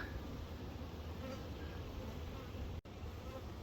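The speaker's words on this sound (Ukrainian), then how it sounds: "Так, чую по штанині лізе бджола." A faint bee buzzes close by in a thin, steady drone over quiet background hiss, broken briefly by a soft click near the end.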